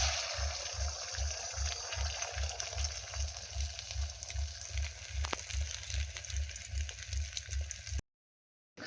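An egg fries in a pan in a home kitchen, giving a steady close sizzle and crackle that stays fairly loud throughout, over a rhythmic low pulsing hum, then cuts off abruptly near the end; no talking.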